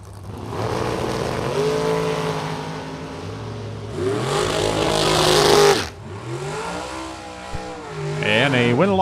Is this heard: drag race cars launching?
yes